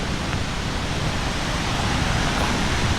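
Shuswap Falls roars as a steady, dense rush of falling water, loud and close, with a constant broadband wash and no breaks or other sounds.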